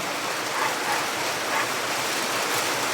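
Heavy rain pours steadily as a dense, continuous hiss, even and unbroken throughout.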